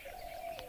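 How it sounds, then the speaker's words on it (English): Birds calling faintly in the distance at a waterhole in Tadoba Buffer Zone, India; a soft, drawn-out cooing note stands out over a quiet open-air background. "All the birds calling."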